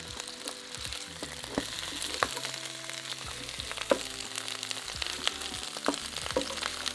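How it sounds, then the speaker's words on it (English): Beef short ribs sear in a hot slow cooker pot, with a continuous close crackling sizzle and scattered sharp pops of fat, and no one speaking. "Searing the beef is crucial for the absolute best flavour."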